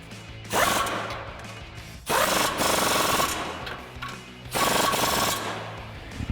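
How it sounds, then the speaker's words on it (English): An 18mm socket on a ratchet tightens the lower strut nuts on a Ford F-150 fitted with a front leveling kit, three loud close bursts of rapid ratchet clicking separated by short pauses. "we can go back and tighten down our two lower strut nuts. So we'll grab an 18mm socket to tighten those."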